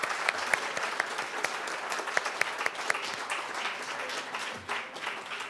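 A debate audience in a women's club hall claps for the candidates, sustained applause with distinct individual claps near the start, easing slightly toward the end.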